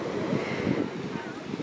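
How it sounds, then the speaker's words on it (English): Sea breeze and waves at the beach, with a steady broadband wash of wind buffeting the microphone and surf rolling continuously close by. "there's always a beautiful breeze the closer you get to the water"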